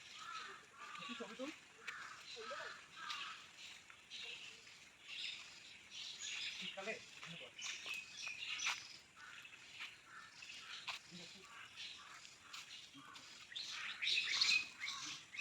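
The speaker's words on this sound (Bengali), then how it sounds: "পাখির আওয়াজ শুধু" Faint birds chirp and tweet in scattered bursts throughout a quiet palm tree garden at Chittagong University, some distant, while people talk quietly over them.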